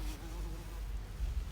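Bee buzzing near dahlia flowers in a garden, a faint steady insect drone close by, alone and briefly heard.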